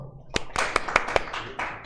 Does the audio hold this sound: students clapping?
yes